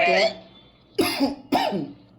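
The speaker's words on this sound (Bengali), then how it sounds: "আমার কাশি বাইজে গেছে গলার ভিতরে" Three harsh coughs close to the mic, the first brief and the next two separate bursts about half a second apart.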